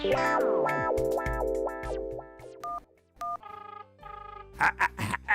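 A cartoon telephone is dialed: a rapid series of bright tonal beeps and clicks, then rising tones and short chirping bursts, with no talk.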